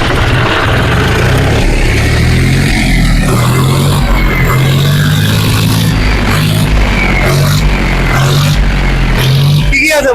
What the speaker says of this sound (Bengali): একটু ইঞ্জিনটা খুলে দেখা।